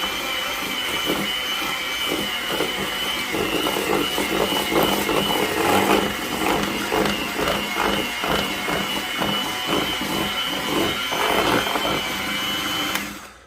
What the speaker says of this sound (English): So I have to use my hand mixer.